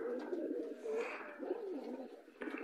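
Pigeons in a loft coo softly in repeated low, throaty phrases, several birds overlapping at close range, with a quiet chirp near the end and no speech.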